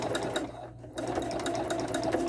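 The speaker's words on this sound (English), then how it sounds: "I'm sewing at a moderate speed, and I'm just letting the machine pull it along." A sewing machine runs steadily at moderate speed, stitching a knit fabric hem with a twin needle, its motor hum and rapid needle clatter continuous and close, with one brief pause partway through.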